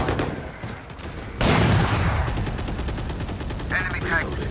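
Gunfire in Valorant, a heavy rapid burst of shots that swells suddenly and keeps rattling steadily, with a brief voice heard partway through.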